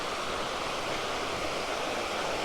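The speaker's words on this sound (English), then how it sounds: "And this is the river." Steady broadband rush of a river flowing down from Snaefell near the harbour at Laxey, Isle of Man, continuous and fairly loud with no voices.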